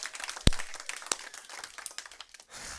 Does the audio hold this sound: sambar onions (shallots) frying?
no